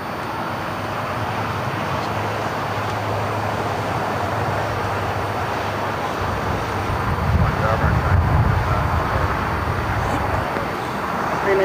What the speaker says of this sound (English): China Cargo 777 freighter touching down to runway 25 left